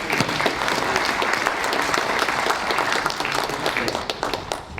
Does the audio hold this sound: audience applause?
yes